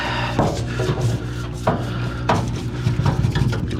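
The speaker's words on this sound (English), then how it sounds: "Just scrubbing it away." A stiff brush scrubs grime off the inside of an old parts washer, giving gritty rubbing strokes mixed with hard scraping and clanks, loud and close, with no voices.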